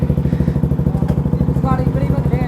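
A motorcycle engine runs close by with a fast, even chugging pulse that throbs steadily throughout.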